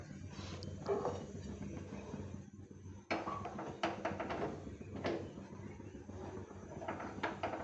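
A wok is set down on a kitchen stove for mango chutney, with metallic clatters and knocks of cookware scattered through a few seconds of quiet room noise, the sharpest bumps near the middle and end.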